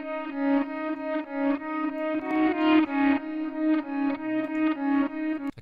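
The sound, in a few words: guitar with 47 millisecond stereo delay effect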